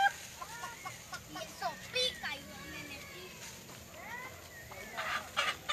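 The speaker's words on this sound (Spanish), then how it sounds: "Hoy sí, la atraparon a la gallina." A hen clucks and squawks while being chased, sharp agitated calls coming in bursts with excited people talking and shouting over them.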